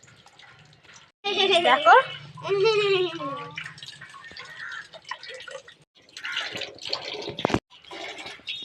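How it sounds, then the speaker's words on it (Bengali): Tap water running for children's bath time at home, a steady splash under excited children's voices and loud playful chatter. "কলে জল এসছে"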